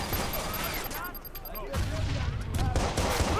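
Gunfire in the video game Watch Dogs crackles in dense bursts over busy game noise, loud and close, with a brief lull before heavier shots resume.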